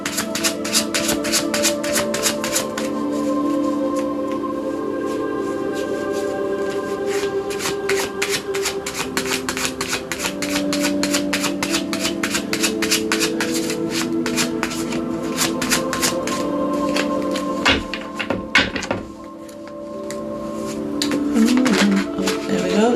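Tarot cards are shuffled at close range in long runs of quick, crisp riffling and flicking, fairly loud and steady, with a short pause near the end before the shuffling resumes and no clear talking.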